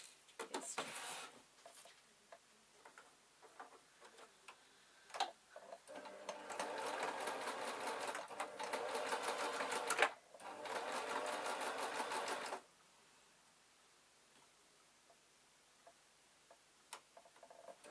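A sewing machine stitches a gossamer layer top in two sustained runs of fast, even whirring, separated by a brief pause, with scattered ticks and handling clicks before and a quiet stretch afterward.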